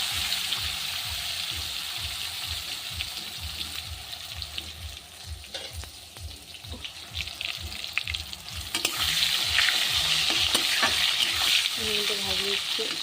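Vegetables sizzle and crackle steadily while being stirred in a pan in a home kitchen, with scraping stir strokes and a louder burst of frying in the latter half, occasional faint voice nearby.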